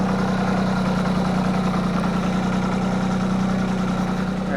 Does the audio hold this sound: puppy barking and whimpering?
no